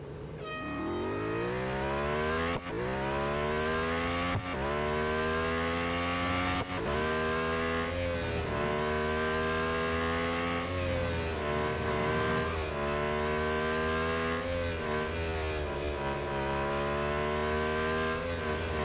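A Lotus Emira GT4 race car in Real Racing 3 revs hard and continuously, climbing through the gears with sharp drops at each upshift, its loud engine note dominating throughout.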